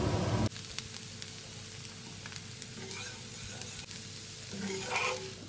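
A moringa (drumstick) leaf dosa sizzles on a hot pan in a continuous close hiss, with a brief louder clatter at the start and again near the end as it is pressed and flipped.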